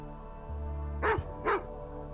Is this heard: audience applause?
no